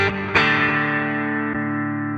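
Clean electric guitar tone through a NUX MG30 multi-effects unit: a few chords strummed and left ringing with long sustain, played alone.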